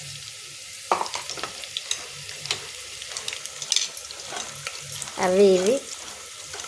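Vegetables, broad beans and bottle gourd with turmeric, stirred and splashed in water in a kitchen, with soft scraping, clinks and a brief louder sloshing burst near the end, and a few spoken words.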